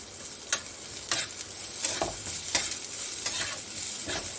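Lentils, fenugreek seeds and almonds fry with onion in a pan, giving a steady soft sizzle broken by periodic scraping stirs at roughly half-second to one-second intervals.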